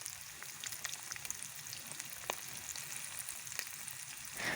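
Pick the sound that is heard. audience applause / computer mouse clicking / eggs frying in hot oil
eggs frying in hot oil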